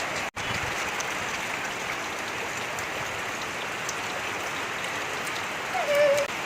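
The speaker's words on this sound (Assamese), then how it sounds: "এতিয়া মই যাওঁ বৰষুণত তিতিবলৈ কাৰণে।" Steady rain falls outdoors as a continuous broadband hiss that holds an even level throughout. It breaks off for a brief moment near the start, and a faint tonal chirp rises near the end.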